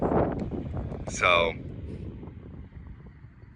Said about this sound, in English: it's a little windy. I'm cupping the phone.